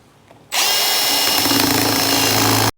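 A Milwaukee M18 cordless hand drill with 8% cobalt bits bores a 10 millimeter hole in a sway bar part clamped in a vise, a loud steady high-pitched whine that starts abruptly and stops cleanly after about two seconds.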